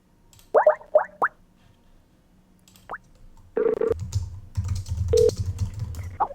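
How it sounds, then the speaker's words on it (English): A few short beeping key tones from dialing a cell phone number, spaced irregularly in quick succession, followed by a ringing tone and some faint clicks and handling noise, with no one talking. "Let me call Brunson"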